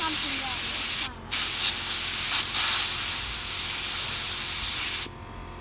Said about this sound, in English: we essentially sprayed this blue paint on this piece of wood.